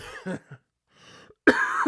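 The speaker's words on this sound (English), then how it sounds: "Still got this weird cough after all this time." A few close, raspy coughs with short pauses between, the last one louder and harsher, like a throat-clearing hack.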